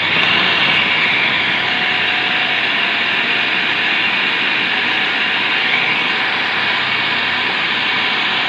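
An electric chopper grinding a spice mix runs loud and steady, with a continuous whirring roar that holds unchanged for the whole stretch and no voices over it.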